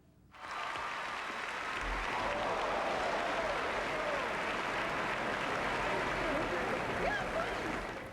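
Sustained audience applause at the 40th annual Grammy Awards, a broad steady roar of clapping from a large crowd that rises quickly and holds for several seconds.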